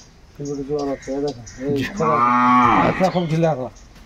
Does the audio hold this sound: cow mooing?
yes